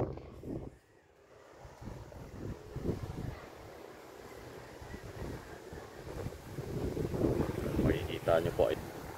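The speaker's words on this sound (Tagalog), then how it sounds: "Lamig po, napakalakas ng hangin." Strong, cold wind gusts buffet the microphone at a hilltop park in Tagaytay City, a steady roar under faint voices. The wind builds toward the end.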